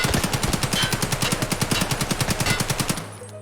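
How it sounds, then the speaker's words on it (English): A modded AKM rifle in a video game firing one long full-auto burst, about twenty rapid, evenly spaced loud shots over three seconds, then stopping abruptly with a short fading tail. "for the modded out AKM, so definitely a massive, massive improvement"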